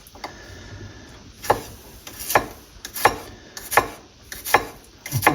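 Garlic is finely chopped with a kitchen knife on a board: steady, evenly spaced crisp chops, close and fairly loud, with no talking.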